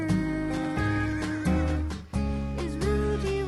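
A horse neighs in the cartoon Steven Universe, with whinnies rising over a dense, loud layer of background music throughout.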